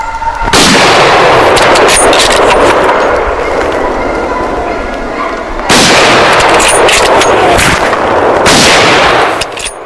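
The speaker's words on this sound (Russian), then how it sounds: "После третьего выстрела самец наконец-то падает." Rifle shots during a wild boar hunt: two sharp, loud blasts several seconds apart, each followed by a long rolling echo across open terrain.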